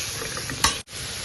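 A curry mixture of vegetables is stirred in a frying pan, with a steady sizzle and a spoon scraping through it, including one brief louder scrape near the end, no voices present.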